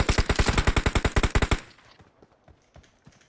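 Automatic gunfire in the shooter game PUBG Mobile on the Erangel map, a loud rapid burst of about fifteen shots lasting a second and a half, followed by quieter scattered sounds.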